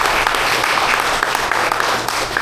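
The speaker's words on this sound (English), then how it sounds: "Y'all give him a round of applause" At a Masonic lodge officer installation, a roomful of people gives loud, sustained applause that holds steady throughout, a thick wash of clapping with a low hum beneath.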